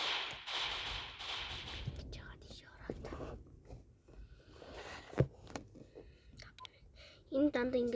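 Gunfire in the video game Counter-Strike: a few sharp, scattered shots, one standing out near the middle, over a noisy, murmuring background without clear speech.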